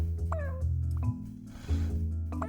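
Cartoonish cat meows from the puzzle video game Cats Organized Neatly, several short rising and falling calls over a steady tonal game music bed, clear and near.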